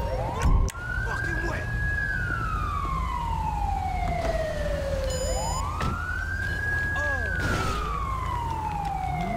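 A wailing emergency siren in GTA V with the LSPDFR police mod, rising and falling in two long sweeps over steady traffic and engine noise, with a short burst of other noise near the start.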